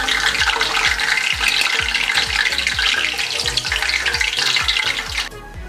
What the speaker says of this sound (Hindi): प्याज हमारा बहुत अच्छे से गोल्डन फ्राई हो गया है।